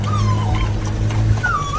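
A pet dog whimpers in thin, drawn-out whines over a steady low hum, close and fairly loud, with two long whimpers separated by quieter moments.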